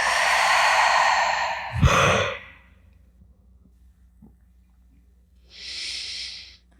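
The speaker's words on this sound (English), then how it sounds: "And we'll take a breath here." A slow, deep breath during a guided relaxation session, a long audible inhale followed by a soft sigh of exhalation and then a second breath after a short quiet pause, close to the microphone.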